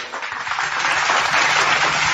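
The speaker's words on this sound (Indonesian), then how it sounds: "Tepuk tangan dulu teman-teman" Applause from an audience at a heated religious debate between a Muslim speaker and a pastor, a dense steady patter of clapping sustained for about two seconds with no talk over it.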